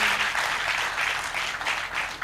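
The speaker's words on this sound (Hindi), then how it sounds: "एक बार तालियां बजा दीजिए इनके लिए।" Audience applause at a Hindi poetry gathering, a dense continuous wash of clapping from a sizeable crowd, steady and fairly loud throughout the brief moment.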